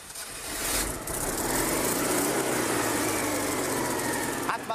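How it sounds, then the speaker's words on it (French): A Citroën 2CV car engine idles steadily with a buzzing, lawnmower-like chatter, close and continuous, with a brief louder rattle near the start. "On dirait une tondeuse à gazon, mais c'est une voiture."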